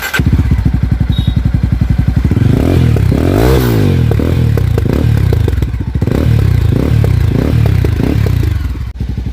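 A loud motorcycle exhaust fitted with a dB killer putters rapidly, then revs up and down in several sharp bursts, close and unaccompanied by speech.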